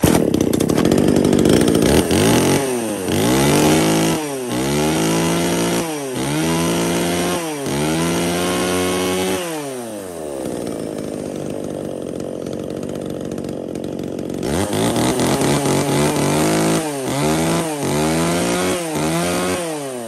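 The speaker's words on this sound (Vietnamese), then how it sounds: "rồi giật test nổ cho anh em qua con D5" Secondhand Japanese 33cc long-handle chainsaw pull-started and revved in a test run, loud and close, engine rising and falling in repeated throttle bursts, dropping to a steady idle midway, then revving again.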